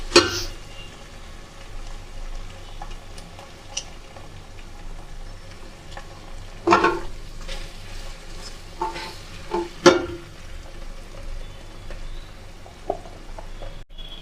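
Sliced green chilies frying in a pan for veg biryani give a soft, steady sizzle and crackle, quiet and close, with a few brief stirring clinks scattered through.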